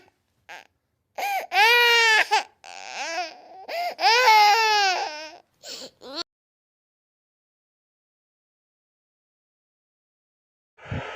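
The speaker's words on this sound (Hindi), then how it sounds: "अचानक एक बच्चे के रोने की आवाज आई।" An infant cries loudly in several wailing bursts with short gasping pauses, then falls silent for several seconds before a faint sound at the end.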